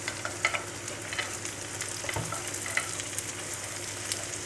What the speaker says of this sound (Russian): И отправляем уже орехи. Обжариваем.